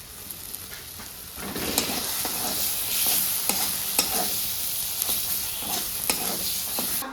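A spiced cabbage mixture with salt sizzles steadily in a pan while a spatula scrapes and stirs it in short, regular strokes, close by and moderately loud.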